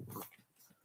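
A small dog whimpers and strains while having a seizure-like fit, stiffening and struggling to breathe; one brief, fairly loud whine opens the moment before trailing into fainter, ragged sounds.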